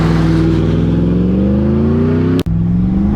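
A Ford F-150 pickup fitted with a throttle controller accelerates hard, its engine droning loud and steady with rising pitch, briefly interrupted by a sharp click near the end.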